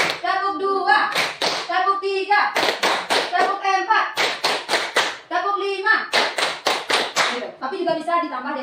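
Rhythmic hand clapping in counted patterns led during a positive-culture classroom exercise, with sharp claps falling in regular groups while voices count along and speak over the beat.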